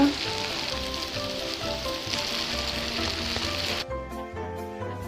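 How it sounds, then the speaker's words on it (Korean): Spoonfuls of tofu mixture pan-fry until golden, a dense, even crackling sizzle heard up close; near the end the hiss drops away abruptly, leaving softer low rumbling and faint pops. "노릇하게 구우면 됩니다"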